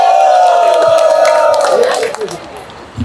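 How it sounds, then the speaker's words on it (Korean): A rally crowd at a prison-release protest event outside Hwaseong Prison cheers loudly, with sustained close shouting and whooping that fades into scattered sounds after about two seconds. "박수!"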